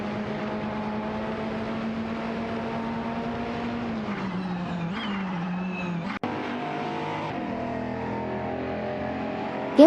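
Race cars, among them a Bentley Continental GT3, drone along a track in a racing video game, a steady engine whine shifting pitch as they accelerate and brake, with a brief tyre squeal.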